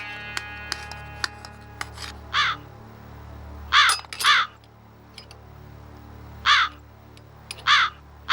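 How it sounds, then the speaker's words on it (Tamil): Jungle crow giving a series of harsh caws in short bursts, heard clearly over a quiet background with scattered faint clicks and taps, no talking. "காக்கா கத்துது, நல்ல சகுனம் தான்."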